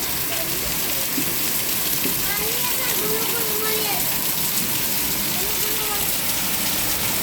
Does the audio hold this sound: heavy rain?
yes